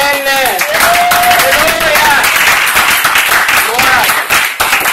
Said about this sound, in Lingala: Moi, je crois que vous allez applaudir.